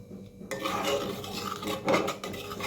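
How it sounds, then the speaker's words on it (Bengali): A large metal spoon scrapes and rubs around the inside of a burnt cooking pot on the stove, a close, gritty rasping with repeated strokes and clinks. "এই চামচটা একটা বড় চামচ নিয়েছি, হাঁড়ির ভেতরে এইভাবে সব আমি এভাবে নেড়ে নেড়ে দিচ্ছি"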